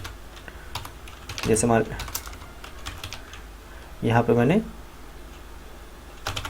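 Keys clatter on a computer keyboard while a title is typed into an MS Word 2010 document, a steady patter of clicks running under a voice speaking in Hindi between bursts of talk.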